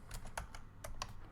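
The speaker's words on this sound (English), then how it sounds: "what am I typing?" Fingers tap out a quick, uneven burst of keystrokes on a computer keyboard, close and quiet, with no talking.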